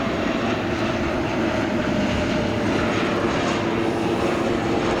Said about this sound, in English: Now the aircraft being brought back in simulated drop conditions.